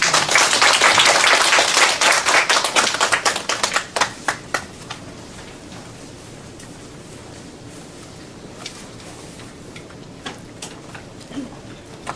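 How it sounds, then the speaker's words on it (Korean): Audience applause welcoming a lecturer to an art humanities lecture, loud dense clapping that thins into scattered individual claps after a few seconds and fades to near quiet with a few late taps. "구윤숙 강사님을 큰 박수로 환영해 주시기 바랍니다"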